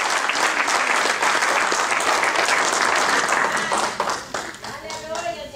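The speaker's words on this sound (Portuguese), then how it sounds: "Agora dê mais um forte aplauso ao Senhor." Church congregation applauding at a Portuguese-language service, loud sustained clapping from many people that thins out near the end as a voice speaks over it.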